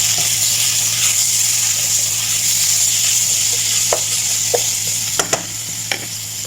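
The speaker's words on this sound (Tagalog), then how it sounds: "So lagyan natin siya ng coriander powder sa cumin. So haluin." Coriander and cumin powder stirred into a sizzling pan, with a continuous bright frying hiss and a few sharp spoon clinks toward the end, close and fairly loud.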